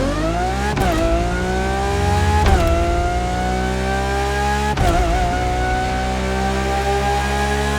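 Engine of a Lamborghini LP800 Countach, modelled on a Gintani-equipped Aventador, in The Crew Motorfest racing game, revving loudly and climbing in pitch with sharp breaks at gear shifts, heard alone and up close.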